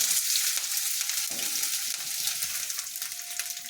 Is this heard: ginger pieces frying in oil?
yes